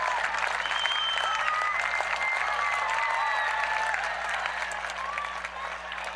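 A stadium crowd applauds and cheers steadily as an Olympic torch is carried around the track and lit, a dense, continuous wash of clapping with scattered whistles and shouts, loud and sustained before easing slightly near the end.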